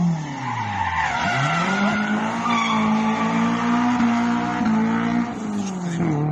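Renault 5 GT Turbo engine revving hard and held against the rev limiter, a loud close drone with a dip and recovery early on and small stutters, steady throughout with no talk.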